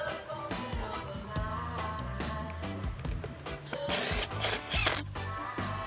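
A ratchet clicks while tightening a screw during repair of a STIHL BG300 blower, with a run of close, mechanical ratcheting clicks and small metallic knocks over several seconds.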